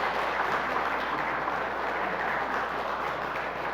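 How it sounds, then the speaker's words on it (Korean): Congregation applause in a church service honoring elders, a steady wash of clapping that fills the whole stretch at an even level, with no talk on top. "큰 박수로 한번 격려해 주시고 축하해 주십시오."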